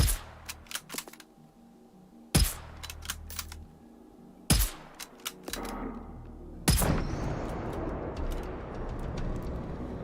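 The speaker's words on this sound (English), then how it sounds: "I might shoot it and blow it up." Gunshots at a gas station in Generation Zero crack out in sharp bursts: clusters of rapid shots and several loud single reports, followed by a rumbling blast that trails off into lingering noise.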